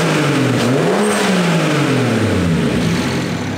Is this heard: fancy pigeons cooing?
no